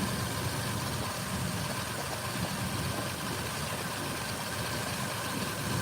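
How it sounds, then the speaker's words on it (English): A 2007 Ford Explorer with a 4.0L engine runs rough with a misfire, a steady, dense low rumble that is continuous and fairly loud, with no pauses or talking. "the engine started running really rough again."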